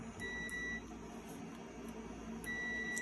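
A multimeter set to ohms with continuity sound gives two clear, fairly faint electronic beeps, one short and one at the end, while checking a Whirlpool dryer's thermostats and sensors amid low room hum.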